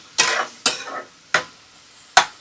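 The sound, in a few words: tomatoes sautéing in oil for masala rice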